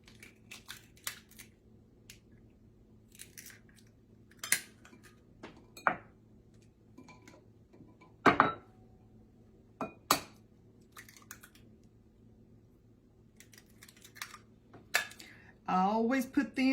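Eggs cracked one at a time into a bowl while baking a chocolate cream cheese pound cake: scattered sharp taps and clicks spread through a quiet kitchen, with a person talking at times.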